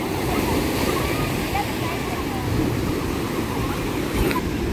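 Big waves breaking on RK Beach in Visakhapatnam, a steady loud roar of surf with wind buffeting the microphone and a crowd murmuring faintly behind.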